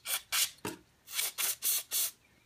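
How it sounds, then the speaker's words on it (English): Several short hissing bursts of carburetor cleaner sprayed into a plate compactor's carburetor, about six quick squirts in an uneven rhythm, close up with no voices. "I'm going to just get some carb cleaner here"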